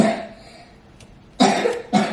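Two short, harsh coughs close by, a half second apart, after a quiet stretch with faint background noise.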